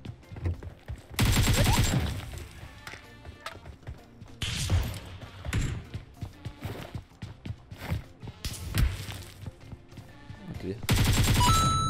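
Rapid bursts of automatic gunfire in a squad-based shooter video game, with loud volleys coming from behind, clustered into several heavy fusillades separated by short lulls of quieter shots and clatter.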